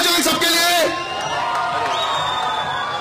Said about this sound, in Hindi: तालियां हो जाए सबके लिए